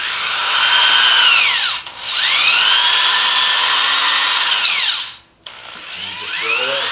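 A loud power drill with a masonry bit whines steadily in long stretches, its pitch dropping twice as it slows, while it bores into concrete on a masonry wall.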